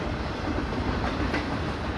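A recorded train soundscape with a steady rumble of rolling railcars, faint rhythmic clatter over the rails and a brief squeal, continuous and evenly loud throughout with no voices.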